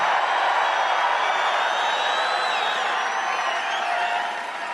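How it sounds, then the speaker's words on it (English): Crowd at a presidential campaign rally in Johnstown, Pennsylvania, roaring and cheering with applause mixed in, a steady, dense wall of loud crowd noise that holds for the whole stretch and eases slightly near the end. "So loud screams, yells, cheer, whatever you need to do so our president hears you."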